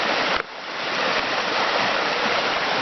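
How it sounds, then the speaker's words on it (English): Water sloshes and splashes steadily in a bucket as a dirty hand tool is rinsed outdoors, a loud, continuous wash with a brief dip near the start. "Now I'm going to rinse."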